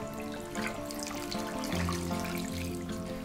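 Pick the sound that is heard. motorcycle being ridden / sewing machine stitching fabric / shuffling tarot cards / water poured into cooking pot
water poured into cooking pot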